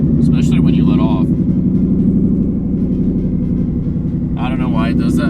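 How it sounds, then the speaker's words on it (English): Inside a Mustang GT with a cold Whipple supercharger, the engine drones close by under a steady low rumble, with a whirring note rising above it while someone talks over it. "whenever the Whipple is cold, you can hear it whirring up like crazy"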